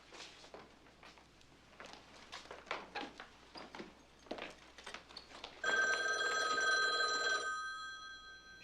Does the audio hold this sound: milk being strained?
no